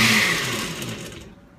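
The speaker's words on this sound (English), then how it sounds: "let's go ahead and blend this up and look for that texture" A blender runs on the grate setting, chopping onion for homemade salsa, with a loud, steady whir that tapers off and stops near the end.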